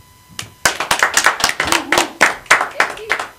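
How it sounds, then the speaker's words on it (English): A live audience claps for a volunteer named Steve at a TV performance, a dense burst of hand claps starting abruptly and continuing evenly, with a voice faintly mixed in. "Give Steve a round of applause."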